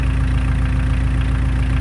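A diesel engine runs at a steady idle around 800 rpm in cold weather, giving a loud, close, even rumble with a constant low pulse and hum throughout, no voices.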